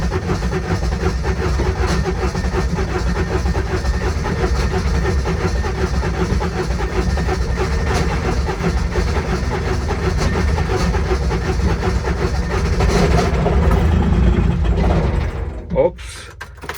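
Intimidator diesel UTV engine cranking hard and running roughly, a steady loud mechanical clatter with whining starter-like tones for about fifteen seconds before cutting off abruptly near the end.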